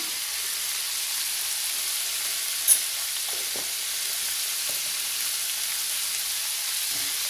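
Chayote, sweet corn and green peas curry sautéing in a pan, seasoned with pepper powder, gives a steady soft sizzle and frying hiss with a few faint stirring clinks, close and alone without talk.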